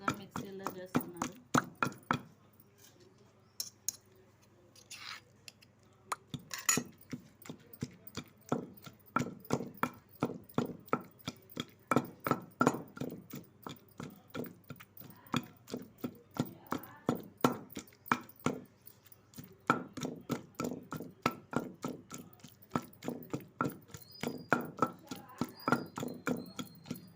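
Green tomato chutney is ground by hand in a small stone mortar, its pestle thudding and scraping in a long, steady, close rhythm that pauses briefly near the start before carrying on.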